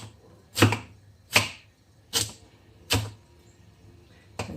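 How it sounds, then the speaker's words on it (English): A knife chops through seeded, sliced food on a cutting board: five sharp, separate thuds at a slow, uneven pace, close and distinct against a quiet background. "And then just chop them up."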